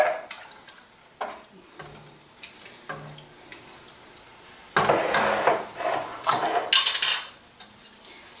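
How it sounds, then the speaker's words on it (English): Canned tomatoes with their liquid are tipped into a pot of chicken vegetable soup, first as a few light metallic clinks and scrapes, then as a louder, sloshing, splashing pour with more clatter from the can near the end. "we're going to put that can of tomatoes in"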